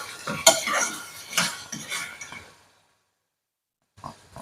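Tomatoes are stirred in a cooking pan with a utensil, a couple of seconds of scraping clinks and rubbing, then silence before a brief final stir.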